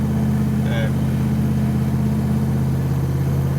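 Holden Kingswood with a swapped-in 304 V8 and a single 3-inch exhaust idles with a deep, steady rumble close by, alongside a voice speaking.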